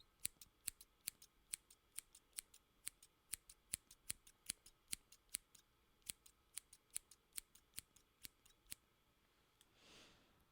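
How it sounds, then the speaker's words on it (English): Scissors snip again and again in a steady, evenly spaced series of sharp, close, crisp clicks lasting about nine seconds, followed by a soft brief rustle and no speech. "there is our scissor snips"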